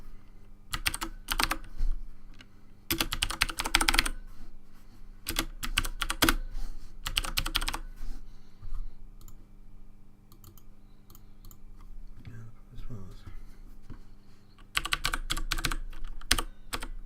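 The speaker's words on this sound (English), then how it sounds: "let's hear those glorious Cherry MX Blues click" Bursts of typing on a Corsair gaming keyboard fitted with Cherry MX Blue switches, sharp clicky keystrokes coming in several runs separated by quieter pauses, close up with no talking.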